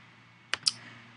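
A computer mouse clicks a software button twice in quick succession, both clicks crisp and faint in a quiet room.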